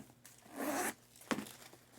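Zipper on a Coach carryall pouch pulled open in one long close zip, then a second short sharp zip, with quiet pauses between.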